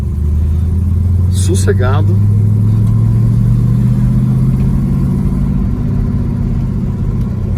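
A 1979 Dodge Magnum engine hums at very low revs while cornering in third gear, a steady close, deep drone that climbs slightly in pitch, with someone speaking briefly over it early on.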